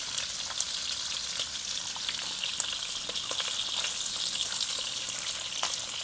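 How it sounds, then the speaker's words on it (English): Bacon frying in a pan, later batches cooking in rendered fat: a steady, close crackling sizzle with scattered sharp pops, running continuously with no talk. "Have you noticed how the subsequent pans of bacon cook a little bit faster?"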